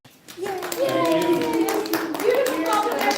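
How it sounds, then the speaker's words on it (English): Audience at a live show breaking into a round of applause, a dense patter of clapping hands with voices speaking and cheering over it. "a round of applause for our seconds"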